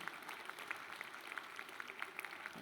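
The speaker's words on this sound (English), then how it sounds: "Another round of applause for Mr." Sustained audience applause at a university Founders' Day celebration, a steady wash of many hands clapping, fairly faint and distant, with no voices over it.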